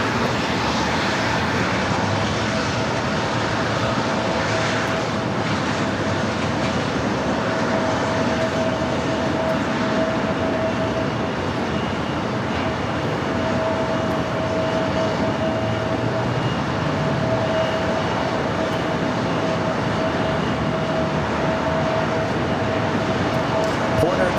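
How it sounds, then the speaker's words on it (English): A Porter Embraer E2 jet on its takeoff roll at Los Angeles airport, a broad, steady engine roar that holds loud and constant throughout, heard from a distance. "Porter, the E2 now rolling down"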